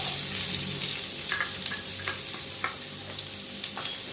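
Steady, close sizzling of shallots frying in oil, with occasional light stirring scrapes; no voices.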